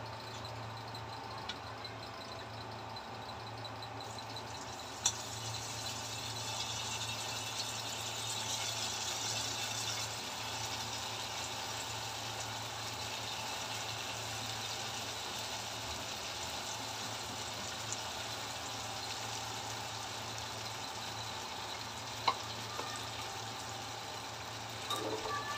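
Pieces of idli frying in a small batch of hot oil, giving a steady, even sizzling hiss that runs unbroken for the whole stretch, close and moderately loud, with no talking.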